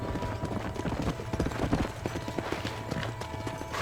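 Horse hooves clip-clop in the Western video game Red Dead Redemption, a quick galloping rhythm of close hoofbeats with a brief whinny, running steadily under game ambience.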